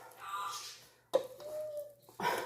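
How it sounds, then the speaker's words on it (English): An African grey parrot gives a few short calls, including a clear sustained whistle-like note, heard close and alone in a quiet room. "That's her African Grey."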